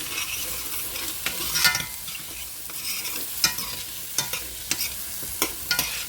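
Chopped onion sizzles softly in melted butter for clam chowder, a close, steady crackle punctuated by small scraping clicks of stirring.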